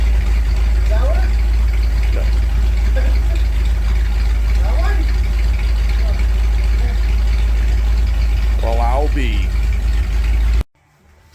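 An old car engine idles steadily, its low rumble close and continuous, while people talk over it in a garage in Canada; the sound cuts off abruptly near the end.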